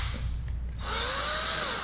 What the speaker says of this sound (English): I'm gonna use a drill because I don't have any better tools.